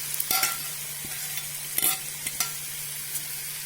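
Thinly sliced onions fry in a pan for a Malabar prawn biryani: a steady, moderate hiss of oil with a few crisp utensil taps and scrapes scattered through it, no speech.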